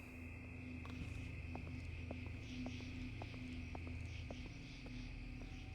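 Night-time outdoor ambience in the video game SCP Secret Files, with a steady high cricket chirr and faint intermittent frog-like clicks and calls layered over a low constant hum, soft and continuous.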